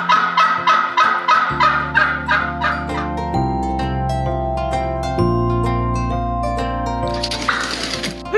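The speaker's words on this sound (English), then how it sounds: "There's a rooster and some huge turkeys." Large farm turkeys gobble loudly and repeatedly in quick bursts close by, with no one talking, and a soft electronic music bed sustains underneath.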